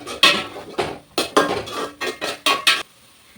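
A spoon stirs turmeric and salt in a metal pot, about eight loud rhythmic scraping clanks against the sides in quick bursts, close up, ending in quiet.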